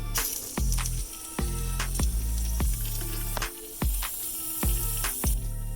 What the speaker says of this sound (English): The air you're hearing is coming out of that drain.